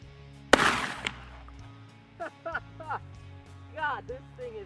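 Shotgun firing slugs at a target 100 yards away: one loud, sharp blast close by with a short echo tail, followed by quieter speech from the shooter afterward.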